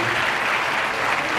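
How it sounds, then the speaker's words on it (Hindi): Dense, loud applause from an audience welcoming the Chhattisgarh Chief Minister at a medal and honour-fund ceremony for the PSY National Exam, steady and sustained throughout with no speech. "एक बार जोरदार ताली बजा करके स्वागत करेंगे"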